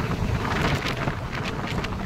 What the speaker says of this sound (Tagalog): Medyo may kalakasan ng konti yung hangin no?